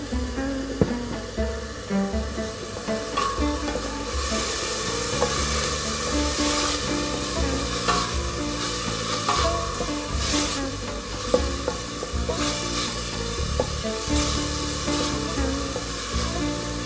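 Minced meat and tomato filling sizzles steadily in a pan, a close, continuous frying hiss with occasional spatters and light stirring clinks, no voices.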